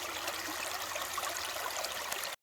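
Creek water runs steadily past a gold sluicing spot, a constant broadband rushing and trickling wash with no voices.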